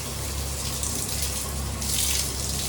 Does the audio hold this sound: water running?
yes